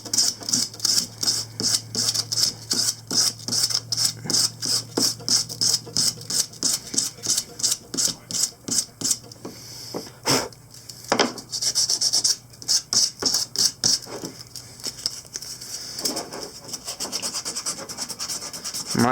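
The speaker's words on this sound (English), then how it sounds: "I've been doing so much sanding on this thing." Hand sanding a small wooden drink and smoke tray: steady, rapid rhythmic rasping strokes close up, continuing for a long stretch with brief pauses and a low hum underneath.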